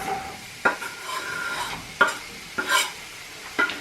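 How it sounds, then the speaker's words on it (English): Onions frying in a pan sizzle softly while a utensil scrapes and stirs them, making a few sharp clicks against the pan at irregular intervals. "Now I'm just going to fry the onions until they're soft."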